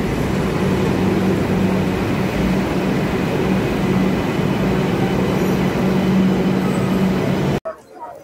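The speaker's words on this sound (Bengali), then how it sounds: "দক্ষিণেশ্বর থেকে এই যে মেট্রো রেলটা ঢুকছে" A metro train pulls into Dakshineswar metro station, a loud sustained rumble and whine of rolling stock that fills the space, then cuts off abruptly near the end.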